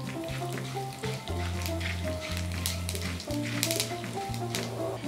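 Chana dal, mustard seeds and cumin seeds sizzling in hot oil for a tomato curry chutney, a steady bright crackle and spatter with a faint repeating tonal hum running underneath.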